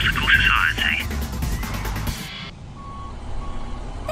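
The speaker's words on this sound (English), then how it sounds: "There's a recycling truck." A recycling truck reverses along a residential street, its high repeating backup beeps loud and close over engine rumble for the first second, then fading as the truck noise drops away.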